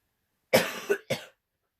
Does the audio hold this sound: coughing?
yes